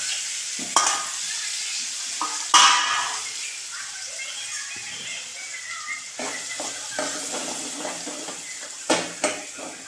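Onion, chili and peas fry in hot oil with a steady broadband sizzle, broken by a few sharp clinks and scrapes of a spoon against the pan, close and fairly loud, with no talking.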